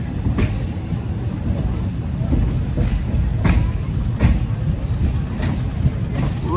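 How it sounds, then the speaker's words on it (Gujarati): Passenger train 59559 Veraval–Bhavnagar pulling into Dhasa Junction, a loud continuous rumble with rhythmic clacking wheel beats and occasional sharp metallic clanks, heard from on board. "આપણી ટ્રેન પહોંચી ગઈ છે ઢસા જંકશન"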